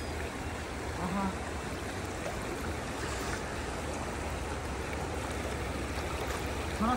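A river flows over rocks in a steady, rushing wash of water, fairly close and constant, with faint voices in the background.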